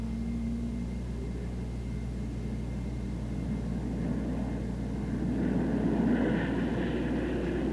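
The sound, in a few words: Republic P-47 fighter bombers taking off from runway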